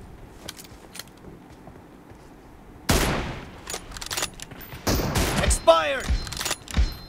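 Gunfire in the PUBG video game, a 1v1 room match with an M24 sniper rifle: a quiet stretch with faint clicks, then a loud shot bursts in, followed by several more close, sharp shots and impacts in quick succession.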